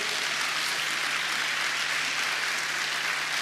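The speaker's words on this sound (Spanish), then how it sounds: "Den un aplauso al Señor" A church congregation applauds the Lord during a sermon, a dense, even wash of clapping that holds steady throughout with a faint hum below.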